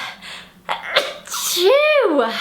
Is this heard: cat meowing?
no